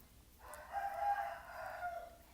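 Rooster crowing once in a single long, drawn-out call, moderately near, heard alone over faint background noise.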